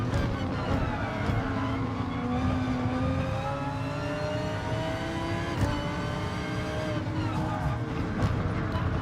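Audi R8 race car engine in GT Sport, a loud continuous drone as the revs climb and shift with smooth pitch sweeps, running steadily for the whole stretch.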